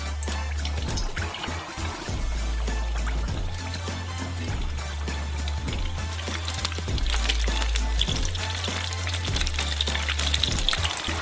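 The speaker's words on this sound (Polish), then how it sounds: "Gdy są gorące, wysyłamy nasze mini pizze do smażenia." Mini calzone pizzas fry in hot butter in a saucepan, giving a steady, close sizzle and crackle that runs unbroken over a low hum, with no talking.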